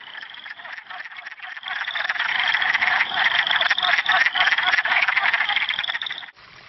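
Wood frogs give mating calls in a vernal pool, forming a dense, continuous chorus of duck-like clucking croaks that swells after a quieter start and cuts off abruptly near the end.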